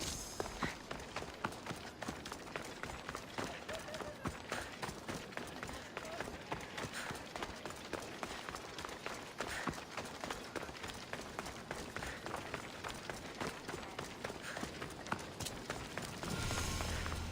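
Horse hooves clip-clopping in Assassin's Creed Odyssey, a fast continuous run of sharp, even hoof strikes close by that carries on steadily throughout, with no talking over it.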